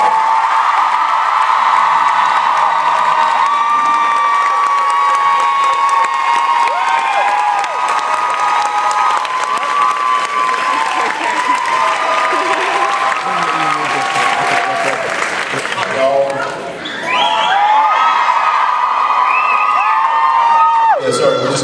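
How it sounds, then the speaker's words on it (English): A large convention crowd at a Chicago fan panel applauds, cheers and whoops for actors Jensen Ackles and Jared in a sustained roar, with scattered shouts rising above the clapping. "Big round of applause for Mr."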